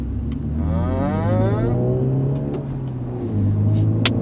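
A 2019 Mini John Cooper Works with a manual gearbox pulls away, its engine note rising and sweeping upward in pitch as it accelerates, loud and close from inside the cabin, ending with a sharp click.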